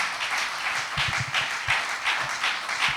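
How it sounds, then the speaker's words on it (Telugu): Steady crowd applause at a Christian sermon, many hands clapping together in a dense, continuous patter that swells slightly in waves throughout. "చప్పట్లు కూడా దేవుని నామాన్ని గణపరచండి"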